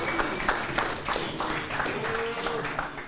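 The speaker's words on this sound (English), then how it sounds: "So give him an applause." Audience clapping at a small tech meetup as a speaker takes the mic, a short burst of close, steady hand claps with some sharp individual taps, no one speaking over it.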